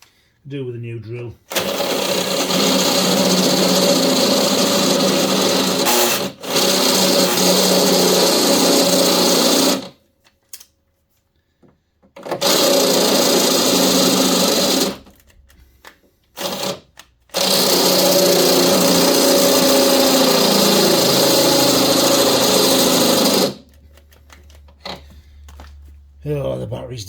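A battery power drill whirs loudly in long continuous bursts, stopping and restarting several times with short silent gaps between runs, while fitting a towing eye to a classic 1980s hot hatch.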